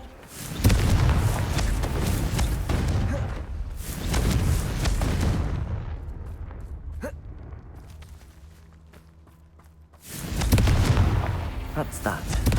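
Fire-spell explosions in Hogwarts Legacy go off as several loud, broad blasts with rumbling tails. Two bursts come close together near the start, a quieter lull follows, and a final strong blast ends it.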